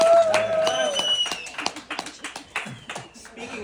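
A family gathered for a Christmas roast claps in brief, uneven bursts, close and scattered, mixed with talk and laughter.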